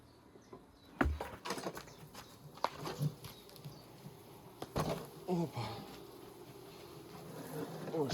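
Bees buzz steadily around the hives, with sharp knocks and clatter of handling equipment, and a person speaking intermittently.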